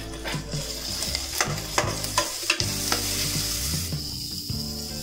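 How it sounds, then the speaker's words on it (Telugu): Thinly sliced onions fry in a pan for veg manchurian, sizzling loudly and steadily up close while a spatula stirs and scrapes in several quick strokes. "ఆనియన్స్ వేసుకొని బాగా ఫ్రై చేసుకోవాలి."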